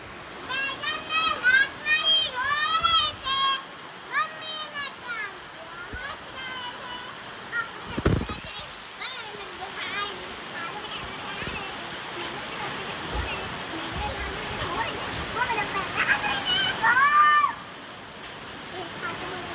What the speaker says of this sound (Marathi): आता या टायमिंगला खूप खतरनाक पाऊस पडतोय